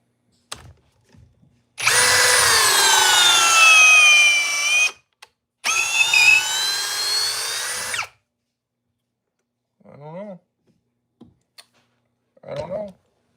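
Ryobi and Craftsman cordless drills driving screws into wood, with two long loud whirring runs of about three seconds each separated by a short gap, followed by a few brief faint clicks and rattles.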